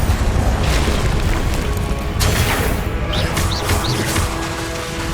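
Spell explosions in the video game Hogwarts Legacy, a dense, continuous booming roar with bursts and crackles layered over loud magical combat effects, with no clear pauses.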